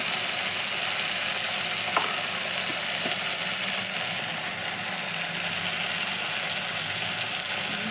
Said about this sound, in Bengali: তারপর দিয়ে জিরে আদা বাটা, তারপর ভালো করে মশলাটা কষিয়ে নিই